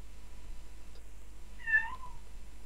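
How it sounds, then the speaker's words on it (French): A single loud cat meow close to the microphone, one clear drawn-out call over a quiet hum, otherwise near silence. "Y'a mon chat."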